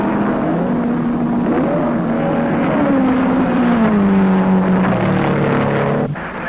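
Race cars roaring through the night at the 1957 12 Hours of Sebring, a loud continuous engine drone with a pitch that slides downward as a car passes close by, then a brief drop near the end.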